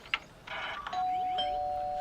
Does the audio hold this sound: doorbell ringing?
yes